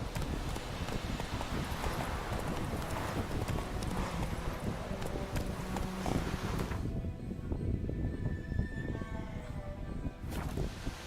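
A horse galloping in The Witcher 3 video game, rapid rhythmic hoofbeats pounding close and steady under rushing wind, with the hoof clatter continuing as the wind noise drops partway through.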